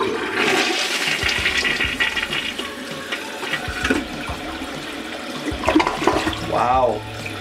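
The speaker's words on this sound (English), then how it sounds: "Flushing again." A household toilet that was not clogged but flushing poorly is flushed, giving a loud rushing gush of water draining through the bowl, then gurgling and the tank refilling, with no one talking.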